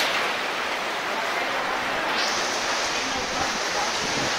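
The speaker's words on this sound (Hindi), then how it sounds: "खतरनाक, बारिश हो रही है।" Dense, steady roar of heavy rain pouring down during a storm on Sultanpur Road, a broad constant hiss with no break across the whole stretch.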